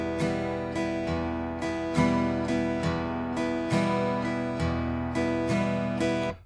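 Acoustic guitar strummed in a swing rhythm for a pop song, with long-short accented chord hits recurring steadily and played close and clear, alone with no talk.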